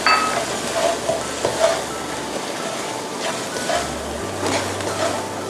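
Fish maw stir-fried in a pan with soy sauce, Chinese wine and black pepper, a close, steady sizzle broken by repeated scraping strokes of the spatula, no voices.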